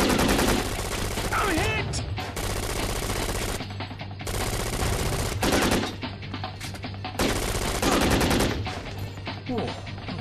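Gunfire in the video game Syphon Filter: Dark Mirror: dense bursts of automatic and single shots over a steady game soundscape, with a character shouting briefly between volleys.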